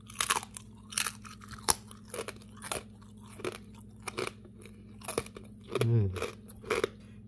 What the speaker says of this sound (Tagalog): Tikman natin ha. Malutong.